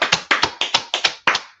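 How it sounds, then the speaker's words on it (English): Hands clap in a quick series of about seven sharp, close claps with short gaps, loud and alone at a classroom lesson gathering. "Clap it up for it."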